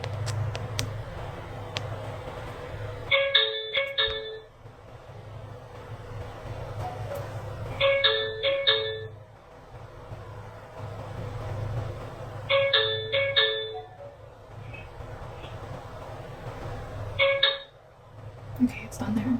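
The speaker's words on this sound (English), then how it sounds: "30 minutes plus of ringing the doorbell, trying to get me to come out and open the door" A doorbell rings over and over in a repeated two-tone chime, four bursts spaced a few seconds apart over a steady low hum, with muffled voices in the background.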